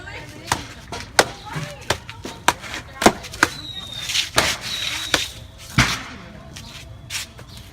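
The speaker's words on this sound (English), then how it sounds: "I'm gonna go for slices to see how much damage I can deal with the jeans and pork ribs" A KA-BAR knife repeatedly slicing into jeans-wrapped pork ribs, giving a series of sharp, close chopping thuds at an irregular pace, with a person talking in between.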